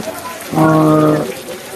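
Steady rain falls on a market street lined with rice stalls at Sonapur Bazar in Ramganj, Lakshmipur, a constant wash of patter with a brief loud horn-like tone rising over it midway.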